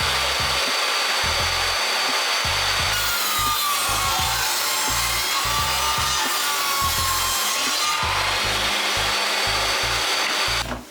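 Hand saw ripping a strip off a wooden floorboard for a chicken coop floor repair, steady rhythmic back-and-forth strokes, loud and close, running continuously for about eleven seconds with no talking.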